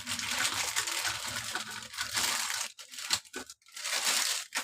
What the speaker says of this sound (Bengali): এই দেখুন, আমি সব ঢেলে নেব ম্যাগিগুলো।